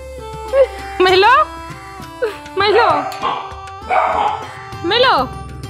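A small dog yips and barks several times in short bursts, close by and loud, with whiny rising tones between barks.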